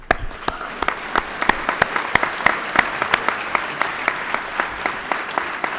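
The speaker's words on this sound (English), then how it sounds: "a round of applause for your teachers" Graduation audience at a high school commencement clapping for the teachers, sharp distinct claps in a loose, fairly steady rhythm over a quieter bed of crowd applause.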